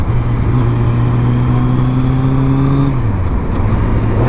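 Suzuki Hayabusa motorcycle engine revving hard and close, a loud steady drone that rises in pitch, then drops sharply as a quick air-shifter gear change cuts in before it climbs again.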